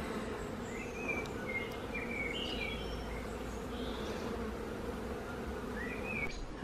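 A honey bee swarm hums in a backyard near wisteria and a tree, a steady dense buzz with individual bees droning past close to the microphone, faint bird chirps above.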